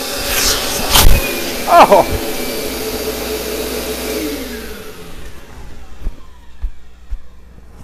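A shop vacuum runs inside the pocket of a shop apron in a workshop, giving a loud, close whine and rumble with a brief muffled surge. It fades toward the end while a person briefly speaks.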